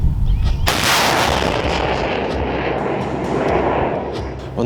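A multiple rocket launcher fires: a powerful rocket launch erupts with a sharp blast followed by a long, roaring rush that sustains loudly and fades slightly.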